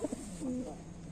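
Loton pigeons cooing nearby, with two short soft notes followed by a longer low throaty coo, quiet and close.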